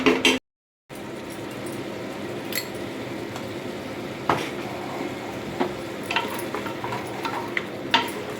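Kurma being stirred in a pan, with scraping and clinking of a spoon against the pan over a constant frying hiss and a few sharp knocks.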